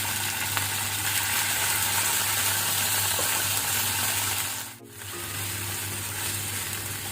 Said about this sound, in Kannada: ಒಳ್ಳೆ ರೀತಿ ಶುಂಠಿ ಬೆಳ್ಳುಳ್ಳಿ ಪೇಸ್ಟನ್ನು ಫ್ರೈ ಮಾಡುವ.